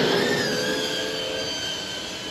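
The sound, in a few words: FPV drone flying with pink GemFan 5-blade propellers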